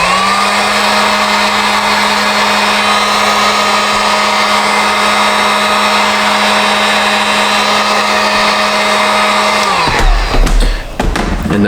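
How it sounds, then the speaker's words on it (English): A heat gun blows a loud, steady whining roar close by while applying post heat to a custom-painted 3D-printed BMW roundel, then cuts off abruptly near the end, followed by brief handling noises. "I'm gonna hit it with a little bit of post heat."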